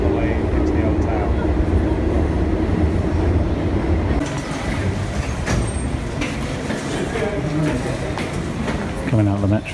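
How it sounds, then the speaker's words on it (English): Metro train rolling through a tunnel on the way into an Italian old town, a loud continuous rumble with rattling and a rising squeal near the end; voices can be heard amid the noise. "Just another tube all the way into the old town."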